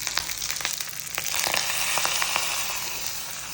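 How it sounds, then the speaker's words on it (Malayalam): Hot coconut oil tempering with shallots and curry leaves hits a prawn curry, giving a close, bright crackling sizzle with scattered pops that builds into a steady hiss. "കുറച്ച് കറിവേപ്പിലയും കൂടി ഇട്ടിട്ട് നമുക്ക് കറിയിലേക്ക് ഒഴിച്ചു കൊടുക്കാം."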